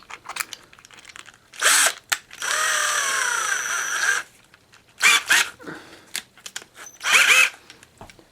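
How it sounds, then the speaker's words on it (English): Step drill boring through a metal electrical box while building a portable solar power generator, in several loud, choppy bursts with pauses between them, including one longer grinding stretch. "take our step-up drill"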